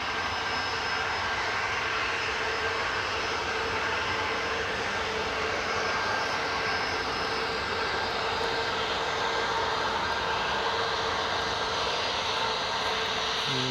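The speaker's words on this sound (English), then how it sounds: "that's the 737 MAX lining up" A Boeing 737 MAX jet lines up on runway 25 at Newcastle International Airport, a continuous loud engine roar and whine holding steady from start to finish with no talk.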